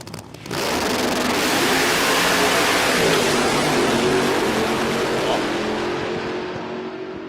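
A powerful nitrous drag race car engine roars loudly at a drag racing event, surging in a sustained blast after a brief quiet start and then slowly fading.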